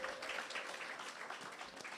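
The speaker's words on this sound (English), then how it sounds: "Another round of applause for Danella" A round of audience applause at an evening event in St. George, heard faint and distant as steady, dense clapping across the whole moment.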